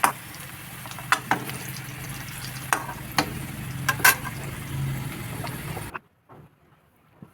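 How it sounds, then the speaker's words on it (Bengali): Potatoes frying in oil for a Bengali chicken curry, a soft continuous sizzle punctuated by several sharp clicks of a utensil stirring against the pan, close up, ending abruptly in near silence with no voices. "লাল লাল করে ভেজে নিলাম আলুগুলি"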